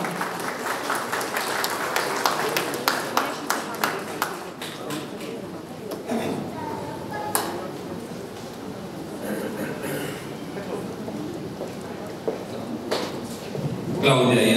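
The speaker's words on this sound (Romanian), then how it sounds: "Haideți să aplaudăm." Guests applaud a couple being honoured at a 50-year wedding anniversary ceremony in Dărmănești, scattered claps and a brief round of clapping amid room noise, handling sounds and some talk.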